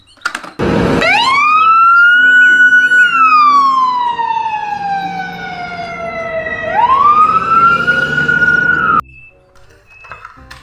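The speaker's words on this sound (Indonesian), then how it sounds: "kalau yang ini mobil pemadam kebakaran, teman-teman" A fire engine siren wails loud and close, sweeping down in pitch, rising again, then cutting off abruptly before a short stretch of quieter background.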